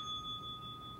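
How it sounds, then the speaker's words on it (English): A bell struck on a late-night television talk show, heard as a steady sustained ring that holds through the whole moment, moderately loud with no talk over it. "How many times do I have to hit the bell before you talk like a vampire?"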